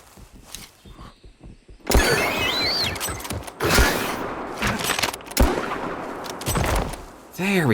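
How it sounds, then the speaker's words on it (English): Rapid bursts of gunfire blast at a raptor in the hunting video game Prehistoric Hunt, loud repeated shots with mechanical clatter between them, no talking over the volley. "shoot the crap out of this raptor"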